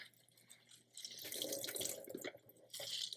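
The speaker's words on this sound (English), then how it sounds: "I'm just going to try to squeeze out all the excess water that I can" Wet horseradish leaves are squeezed by hand to press out excess water, giving soft dripping and trickling splashes into a sink in two close bursts, with no talking.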